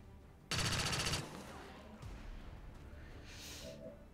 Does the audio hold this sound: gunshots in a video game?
yes